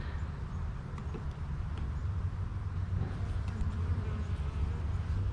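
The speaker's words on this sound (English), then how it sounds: "There's bees all over the top." A low, steady buzzing hum of many honey bees on top of a hive fills the air, continuous and fairly quiet, with no voices.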